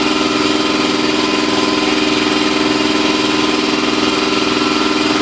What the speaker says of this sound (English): I'm gonna see where the air compressor's at.